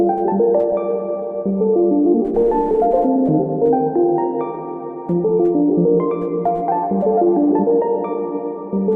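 A keys counter melody on a beat's hook, brought down an octave into a lower register, plays over a steady harmonic backing, with notes gliding and sustaining in a stringy feel; no voices.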